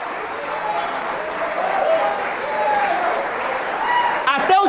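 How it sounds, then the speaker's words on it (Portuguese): A church congregation applauds in praise of God, steady clapping throughout with some talk mixed in, then a brief sharper burst at the end. "A salva de palmas para o nosso Deus."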